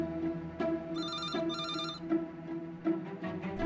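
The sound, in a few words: telephone ringing unanswered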